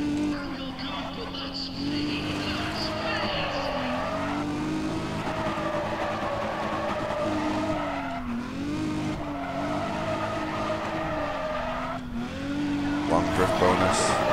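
A front-engine rear-wheel-drive coupe drifts in Need for Speed: ProStreet, its tires squealing in long wavering wails over a steady engine drone, broken by brief gaps as the slides change direction.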